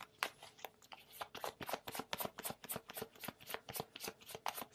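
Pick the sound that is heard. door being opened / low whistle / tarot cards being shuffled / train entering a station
tarot cards being shuffled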